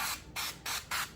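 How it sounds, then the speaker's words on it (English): Four quick hissing bursts of avocado oil non-stick cooking spray onto a 9x13 casserole dish, evenly spaced, close by with no talking. "I'm going to spray a 9x13 casserole dish with some non-stick spray."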